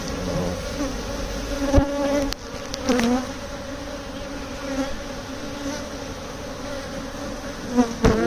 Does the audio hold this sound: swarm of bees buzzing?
yes